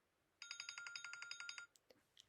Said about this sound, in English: Every time I play this ringtone